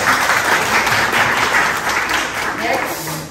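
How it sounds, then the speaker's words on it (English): A classroom of students clapping their hands together, a steady broadband patter of claps sustained throughout, close and fairly loud, with some voices mixed in. "Let's clap our hands for group one."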